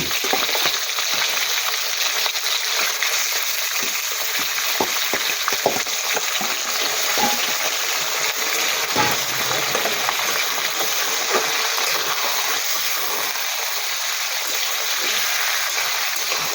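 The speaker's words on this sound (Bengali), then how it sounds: "তেলটাকে আমি আগে একটু নেড়ে চেড়ে ভেজে নেব" Fish fat fries in oil in a kadai, producing a continuous dense crackling sizzle with occasional sharper pops and a few faint stirring knocks, steady and close throughout.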